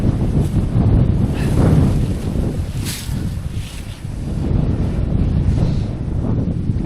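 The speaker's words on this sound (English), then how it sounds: "we're going to get the wind coming. I think it's a northerly wind, isn't it?" A strong northerly wind on a stormy day at a campsite buffets the microphone outdoors, a loud, continuous rumbling roar with gusty swells and no talking.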